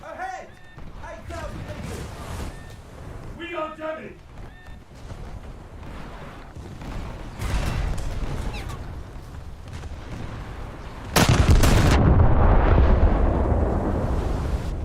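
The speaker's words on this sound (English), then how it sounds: "It's one of those Helenas shooting me, isn't it?" Naval video game battle with enemy cruiser guns shelling the player's ship, heavy booming salvos and explosions rising to a loud blast near the end, mixed with game sounds and a talking voice.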